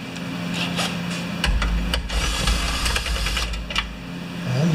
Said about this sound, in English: Let's get those bolts out of there with the drill.